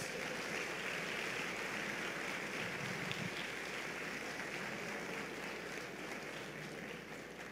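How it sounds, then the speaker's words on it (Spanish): Church congregation applause, a dense, sustained roar of many hands clapping, steady and somewhat distant, filling the room without pause. "Dale un aplauso al Rey de Reyes y al Señor de Señores."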